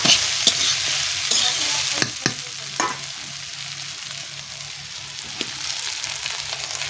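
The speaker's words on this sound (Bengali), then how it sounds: "আমার বুটটা ভাজা হয়ে গেছে এবার এই বুটে অ্যাড করব আমি আলু" White peas and potatoes for ghugni sizzle loudly in a pan while a spoon scrapes and stirs through them in several sharp strokes over a constant frying hiss, with no voices.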